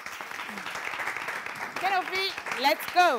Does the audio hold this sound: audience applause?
yes